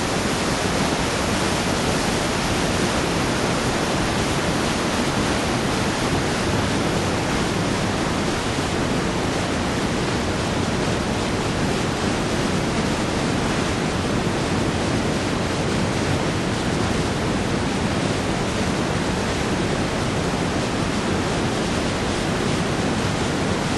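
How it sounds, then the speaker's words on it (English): A waterfall in Colorado's mountain country gives a dense, constant roar of rushing water, loud and unbroken with no voices. "A little further down, beautiful waterfall."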